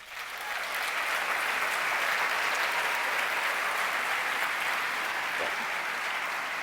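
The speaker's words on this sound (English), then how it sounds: "Let's give them a much-deserved round of applause" Sustained applause from a large audience at an awards ceremony honoring volunteers, steady and full for several seconds after a brief swell at the start.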